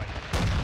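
A gunshot in Call of Duty MW2 multiplayer, a sudden loud burst that cuts in partway through after a low rumbling bed of game noise, close and short with no voices.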